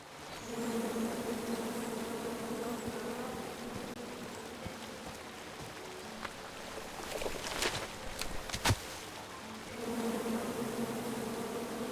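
Angry bees from the 2015 King's Quest video game buzz in a steady, continuous drone throughout, with a few sharper rustling sounds near the middle.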